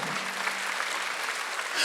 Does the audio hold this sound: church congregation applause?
yes